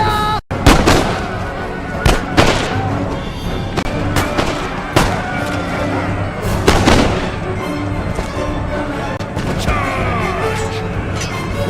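Musket and artillery volleys roar through a Total War: Empire battle, with dense crackling gunfire and heavy booms rolling continuously over a steady loud battle din.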